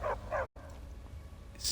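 A dog in the video game Skyrim gives a few short barks and yips up close, a quick pair at the start, a brief gap, then another yelp at the end.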